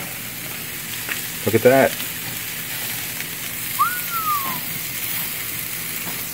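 Shish kabobs sizzle steadily on an Old Country Pecos grill, a close, even crackling hiss throughout, with a brief clatter of handling and a short spoken remark over it.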